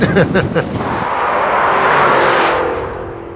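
A 2003 Mercury Marauder drives by with a loud engine note that swells and fades as it passes, rising to a sustained roar before easing off, with a few brief thumps at the start.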